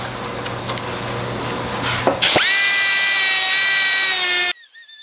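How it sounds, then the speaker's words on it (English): A high-pitched power tool whines as it cuts a rusty car body's sheet metal patch panel along a scribe line: faint scraping and handling first, then the tool spins up to a loud, sustained, steady whine before cutting off. "Let's go ahead and cut this on our scribe line here."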